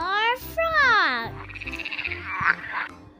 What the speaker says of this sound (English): F for frog. F for frog.